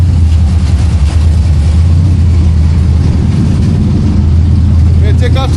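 A 1968 Plymouth Road Runner's engine runs loud and steady with a deep, heavy rumble from a failing exhaust, idling continuously without pause.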